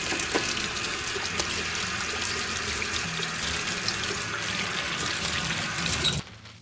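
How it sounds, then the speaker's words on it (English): Kitchen tap water pours steadily into a sink during hand washing between pancake-making steps, a close, continuous splashing hiss that stops abruptly just before the end. "I'm just gonna go wash my hands."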